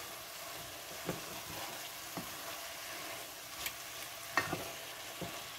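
Split pea soup stirred in a pot over a low, steady simmering hiss. A spoon gives soft scattered knocks against the pot, with one sharper clink near the end, and no one speaks.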